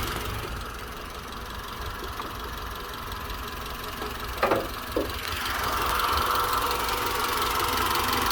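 A 2000 Honda Civic EX with a 1.6-liter four-cylinder, headers and a cold air intake idles steadily with a fast, even mechanical ticking, recorded close up under the hood, with a couple of brief clicks partway through.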